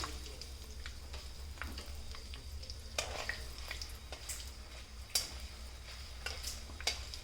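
Curry leaves and chili flakes sizzle steadily in hot oil for a chicken Maharaja dish, a continuous crackling hiss with scattered sharper pops and faint stirring, close and moderately quiet throughout.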